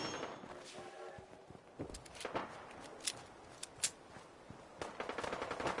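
Gunfire in the video game Fallout 4, a few faint distant bursts and single shots scattered across a few seconds, with quiet movement between them.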